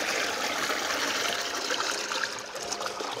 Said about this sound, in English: There's enough water.